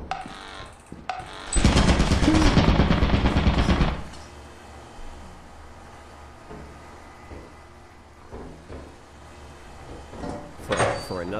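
Rapid turret gunfire in the video game Lethal Company, a loud dense burst of about two seconds, followed by quieter game ambience and a voice speaking.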